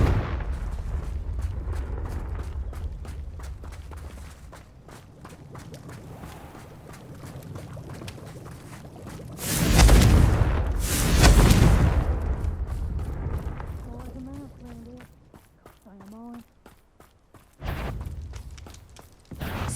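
Confringo blasting spells in the Hogwarts Legacy video game, heard as two loud, close booming bursts in quick succession, then quieter game sounds and brief tonal effects.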